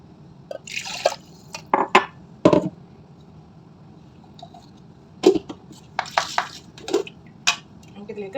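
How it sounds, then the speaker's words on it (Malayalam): Water is poured from a vessel into a bowl of blended tomato mixture in a kitchen, heard as short splashing pours and drips with a few light clinks of utensils between quieter pauses. "അല്പം വെള്ളം കൂടെ ചേർത്ത്"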